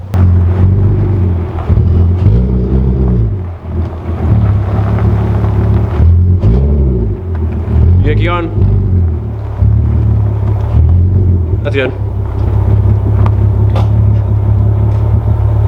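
A Volkswagen car with a 2.8L or 3.2L VR6 engine idles and rolls with a loud, deep, steady rumble, its pitch rising and falling with throttle, while a person briefly speaks over it.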